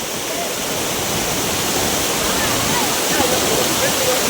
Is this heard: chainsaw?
no